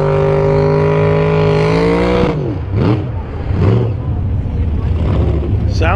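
A powerful four-door Studebaker drag racing car engine rumbles loudly up close at a steady idle, then revs hard in several sharp bursts.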